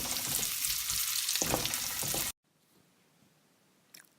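Onion, ginger and garlic sauté in a pan, a loud broadband sizzle with stirring scrapes for about two seconds, then an abrupt cut to near silence with one faint clink near the end.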